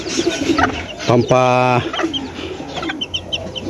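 Small chicks and hens clucking on a poultry farm, with a loud burst of layered calls in the middle and softer peeps scattered through the rest, close by.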